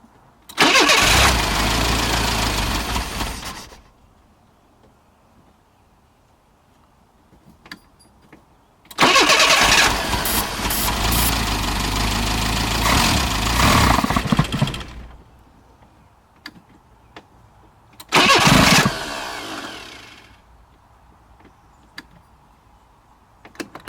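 An abandoned Renault car left sitting for nine years, its engine cranking and catching in three loud bursts of revving separated by quieter idling gaps, close by.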